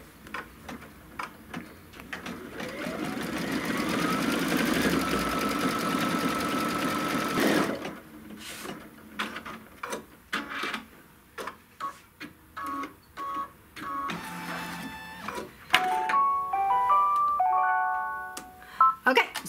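An embroidery machine stitches down the other side of a strap tack on a belt bag. It runs steadily with a whirring hum at first, then breaks into quick rhythmic needle ticks and short beeping tones near the end.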